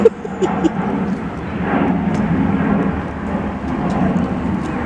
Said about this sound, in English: if you can hear me over the aircraft